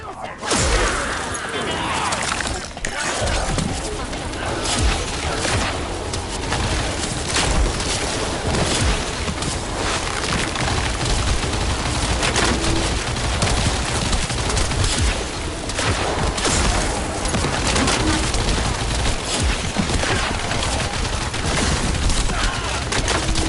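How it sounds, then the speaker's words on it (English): Continuous heavy gunfire in the shooter game The First Descendant, dense rapid bursts and booms filling the whole stretch at high volume, with occasional crashes and whooshes and a voice talking now and then. "Bullets."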